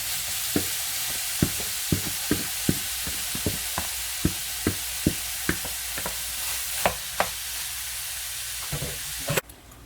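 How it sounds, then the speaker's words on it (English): Ground beef frying in a hot pan for Jamaican beef patties gives a loud, steady sizzle with regular spatula taps and scrapes throughout, and no one speaks. "So I'm gonna add the ground beef."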